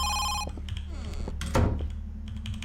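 A telephone rings in the Thai horror game Home Sweet Home, its bright electronic trill heard briefly at the opening before cutting off, followed by clicks, shuffling and a heavy thump amid steady low ambience.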